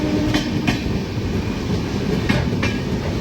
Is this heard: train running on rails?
yes